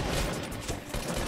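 A dense, loud barrage of rapid gunfire from a Fortnite match, with shots crackling together into a continuous roar for just over a second and no talking over it.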